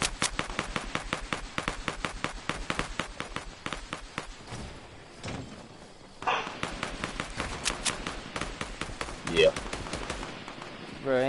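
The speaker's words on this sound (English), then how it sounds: "I hear a whole lot of gunshots." Rapid bursts of video game automatic gunfire crackle almost continuously, sharp repeated shots with brief pauses, some louder cracks standing out, with faint voices under the shooting.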